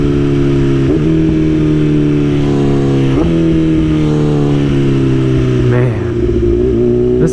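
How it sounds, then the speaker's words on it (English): A BMW S1000 motorcycle makes a series of quick clutchless downshifts. Its engine note falls and then blips upward at each of several shifts, heard close from the rider's position with steady wind noise underneath. "Clutchless downshifts."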